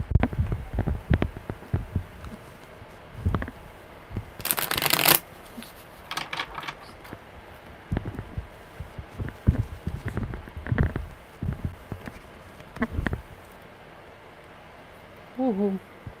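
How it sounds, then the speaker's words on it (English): Tarot cards shuffled by hand during a live one-card reading, with repeated short riffling bursts and taps, close and fairly quiet, and a person speaking in between. "Okay, one more good shuffle, my brother."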